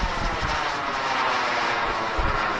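An AeroFoam L-39 RC model jet climbs at full power, its steady loud whine holding on without a break, no voices.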